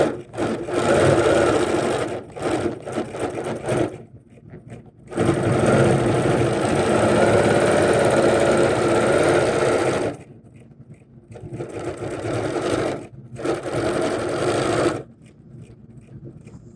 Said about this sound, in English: this time we're going to go this way around and double stitch on this side